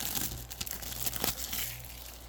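Cardboard and wrapping crinkle and tear as a tiny box of anime trading card packs is pried open, a steady close rustle with a couple of sharper rips.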